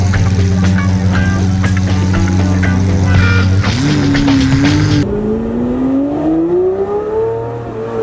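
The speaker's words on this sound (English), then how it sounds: "V12 vibrating on your spine behind you even when you're just slowly accelerating" A Lamborghini Murcielago SV's V12 engine pulls hard and loud nearby, its deep tone climbing steadily through the revs, easing briefly, then rising again in a long smooth sweep.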